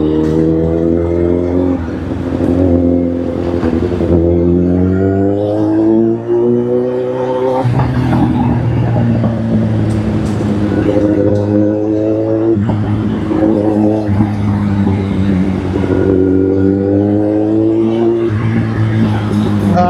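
A motorcycle ridden slowly along a road, its engine droning steadily with a low harmonic hum that shifts pitch a few times as it is throttled, loud and close.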